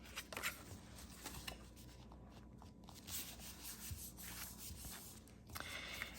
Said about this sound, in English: I will just line that up with the bottom of my card and give it a good rub